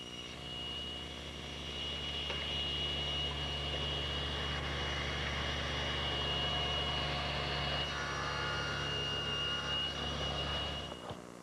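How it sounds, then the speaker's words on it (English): A table saw running steadily while cutting tenon cheeks on a tenoning jig for a garden bench, a constant loud whirring drone that shifts slightly just before the end. "To make the cheek cuts on the tenons, I'm using my tenoning jig."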